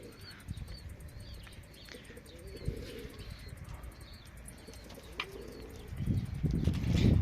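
Young pigeons in a loft make low cooing and soft calls, with occasional wing flutters and chirps nearby, growing louder and fuller toward the end.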